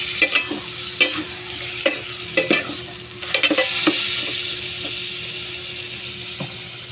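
Chicken sizzles steadily in a pan while a utensil scrapes and clatters in irregular strokes, close and fairly loud.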